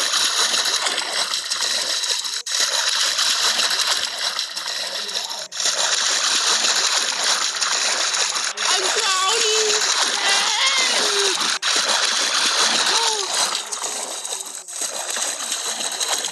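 Water splashing and sloshing continuously as a character swims through a dirty pool in a Roblox obby game, steady and fairly loud, with a voice talking over it throughout.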